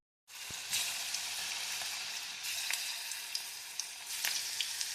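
Vegetable Manchurian balls drop into hot oil in a pan and start deep frying with a sudden, loud, steady sizzle, marked by occasional sharp pops and crackles, with no voices.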